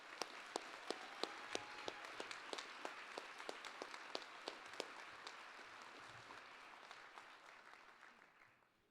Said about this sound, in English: please join me again in giving them a big round of applause